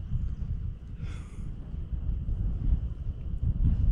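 Low, rumbling wind buffets the microphone in continuous gusts, with a brief breathy hiss partway through.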